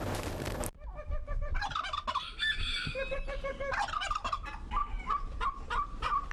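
Ornamental turkeys gobble in rapid, warbling bursts, several birds calling over one another at close range amid some rustling noise.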